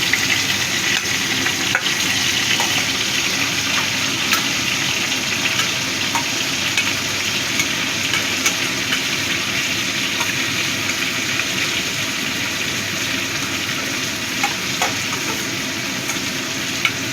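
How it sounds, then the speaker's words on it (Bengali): Crab legs and claws frying in hot oil for a crab curry, giving a loud, steady, close sizzle with crackling pops throughout and no talk. "এবার আমি কাঁকড়া পা হাত যা আছে সব ভেজে নেব।"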